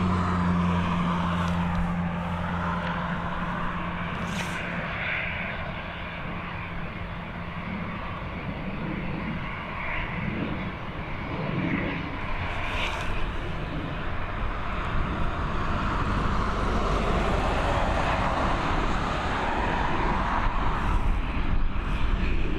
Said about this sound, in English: right now on taxi as well, looks like a Boeing 737